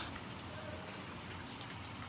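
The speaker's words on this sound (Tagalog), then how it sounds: "biglang umulan" Steady rain hisses evenly throughout, a dense continuous patter with no breaks, moderately faint and without any voices.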